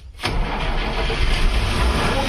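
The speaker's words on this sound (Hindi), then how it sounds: "गाड़ी हमारा हो चुका है स्टार्ट" A 40-year-old bus engine firing up after a short crank and settling into a loud, rough, rumbling idle, heard close with no talking over it.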